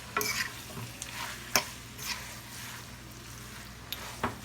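Spicy fried spaghetti cooking in a pan, a low continuous sizzle and simmer broken by several sharp utensil scrapes and stirring knocks.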